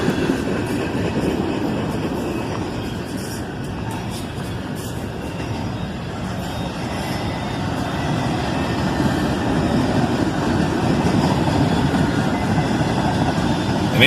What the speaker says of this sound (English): A pair of old AC44 CWs, both still in YN2 paint.